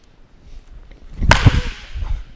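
A European beech wood baseball bat cracks sharply against a ball in one loud, close impact, followed by a brief rumbling tail of outdoor noise.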